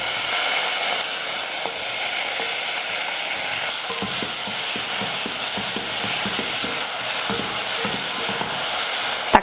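Tomatoes sizzle and fry in a pan for mutton kulambu, a continuous dense hiss with small crackles and occasional stirring scrapes, close and steady throughout.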